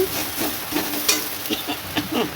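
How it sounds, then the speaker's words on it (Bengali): Boiled peas being stirred into spices in a pan for a Bengali dish, giving soft scraping and sizzling with a few distinct clinks of the utensil against the pan, steady and close, with no talking. "এবার একটু নাড়াচাড়া করে নেব"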